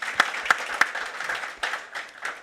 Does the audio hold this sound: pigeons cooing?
no